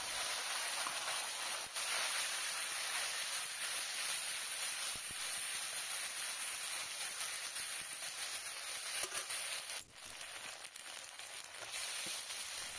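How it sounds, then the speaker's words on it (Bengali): Spice paste sizzles steadily in hot oil tempered with cumin and bay leaf, a close, continuous frying hiss with a few small bursts and no talking. "এবার যে মশলাটা পেস্ট করেছিলাম ওটাই তেলের ওপরে দিয়ে দিচ্ছি।"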